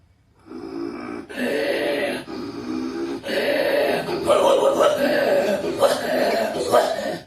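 A person makes a run of short, rough barking sounds, imitating a dog, in quick bursts of about a second each, loud and close.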